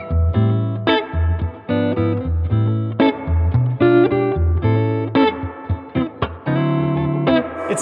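A clean electric guitar plays chords and single notes through a new Gibson Falcon amp with spring reverb set near half, giving a lush, lingering reverb tail, close and fairly loud.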